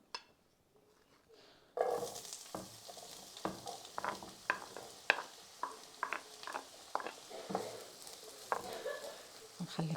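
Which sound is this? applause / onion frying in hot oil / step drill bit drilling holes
onion frying in hot oil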